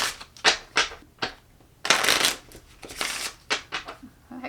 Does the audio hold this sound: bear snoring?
no